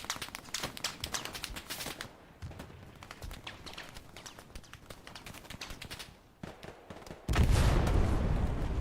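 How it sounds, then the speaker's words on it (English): A proximity satchel charge exploding in the World War II shooter Hell Let Loose, a sudden loud, broad blast rumbling at the end after a stretch of distant, rapid gunfire cracks. "Proxy satchel goes off."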